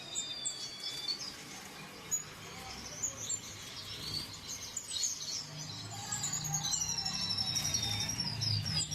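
Caged birds at a breeding farm chirp and whistle repeatedly, high bright calls overlapping at moderate distance over a low background hum, with insect-like buzzing and occasional faint voices.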